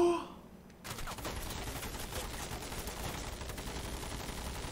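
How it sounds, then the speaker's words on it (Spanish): Sustained gunfire in an episode of the animated series Invincible: a dense, continuous fusillade of overlapping shots that bursts in loudly after a brief quiet opening and keeps going steadily to the end, with no talk over it. "¡Parad de disparar, imbéciles!"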